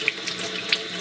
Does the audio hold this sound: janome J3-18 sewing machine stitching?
no